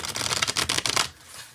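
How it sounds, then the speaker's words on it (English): A deck of meditation cards is shuffled close by, a rapid fluttering riffle of crisp card slaps lasting about a second before falling quiet, with no voices. "shuffle for a second here"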